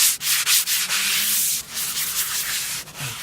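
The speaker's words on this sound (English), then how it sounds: "I have just a little sort of sanding block to knock it down" Steady scratchy rubbing of a sanding block worked back and forth over caulk on redwood siding, close up, with brief pauses between strokes.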